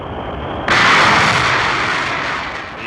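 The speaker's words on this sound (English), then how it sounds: "The escape rocket takes the capsule away from the booster." A Mercury capsule escape rocket ignites with a sudden loud roaring blast, jumping from a quieter hiss to a broad, sustained rushing thrust that slowly tapers over a couple of seconds.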